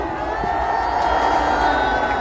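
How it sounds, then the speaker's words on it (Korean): Crowd noise at a Korean political rally in Yeouido, a dense continuous roar of cheering and clapping, loud and steady throughout. "큰 박수 부탁드립니다"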